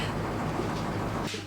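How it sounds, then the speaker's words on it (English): A washing machine running in the background gives off a heavy, continuous rumble that sounds like a passing train, loud and unbroken throughout. "I've just realised that you can hear the washing machine so badly in the background that it sounds like a train."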